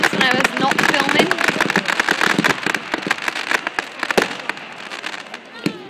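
The Pontyclun fireworks display bursts in rapid, close crackling pops and bangs, a dense irregular barrage with people talking over it.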